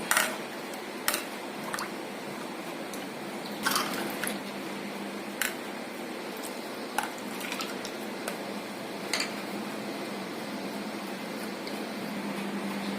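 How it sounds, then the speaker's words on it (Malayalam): Ice is dropped into passion fruit juice in a serving dish, giving a series of sharp, close clinks and splashes spread irregularly across a quiet background. "നമുക്ക് കുറച്ച് ഐസ് ഇട്ട് കൊടുക്കാം."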